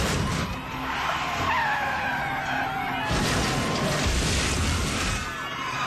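A Chevy Suburban fleeing police on a freeway toward downtown Atlanta squeals its tires and roars away, loud and sustained, with skidding and engine noise throughout.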